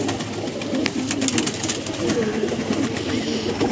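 Star pigeons coo steadily at close range in a loft, low throaty calls overlapping one another throughout, with some faint background noise.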